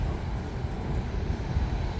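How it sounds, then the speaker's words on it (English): Low, steady rumble of a helicopter flying overhead at a Sheffield bus interchange, a continuous droning wash with no talk. "Hello, helicopter."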